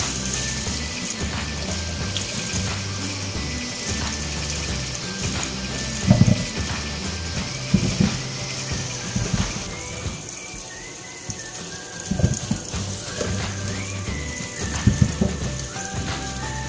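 Freshly picked Indian mangoes are washed under a running tap, a steady splashing stream of water with occasional louder splashes and knocks as the fruit is handled in the sink.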